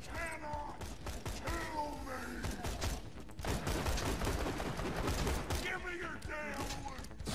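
Video game gunfire from Borderlands 2 rattles in dense bursts and fusillades, with mechanical clanks and a strained, voice-like cry or musical tone over the top. The second half grows louder and busier.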